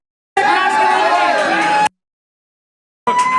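Crowd in a room cheering and whooping, a loud burst of overlapping yells and chatter lasting over a second, then silence, then another burst starting.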